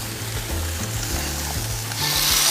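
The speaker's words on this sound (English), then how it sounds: "it's time to put these delicious kebab on the grill. You hear that sizzle?" Kebabs sizzle on a summer grill, a steady broadband hiss that swells louder near the end, with a low rhythmic background hum and no talk.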